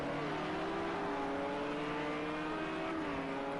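Race cars lapping the Nürburgring in the Project CARS 2 video game, a steady whirring engine drone with pitch sweeps as cars accelerate, fairly faint and continuous throughout.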